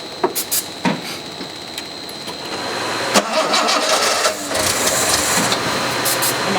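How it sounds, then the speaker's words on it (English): A Jaguar E-type engine cranks with a few sharp bursts, then catches and settles into a steady running idle that fills the rest of the moment at moderate volume. "I really would like to hear this engine"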